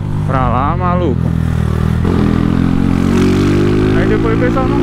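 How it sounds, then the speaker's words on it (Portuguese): A Honda Titan 160 motorcycle with a slight misfire rides along with a loud, continuous engine note and brief revs, while riders talk over it. "A moto tá dando uma falhadinha ainda."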